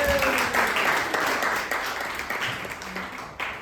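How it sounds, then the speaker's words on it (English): A festival audience applauds at a storytelling event, with dense, steady clapping from a sizable crowd throughout. "So please give a round of applause for Deryn"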